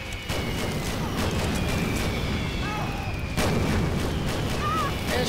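Fireworks burst repeatedly in the video game Left 4 Dead 2 during a carnival level, loud booming pops over steady game noise, with a few short whistling sounds in between.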